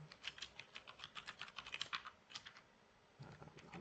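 Rapid typing on a computer keyboard, a steady run of light clicks with a brief pause before the keystrokes resume, fairly close and not loud, with no one speaking.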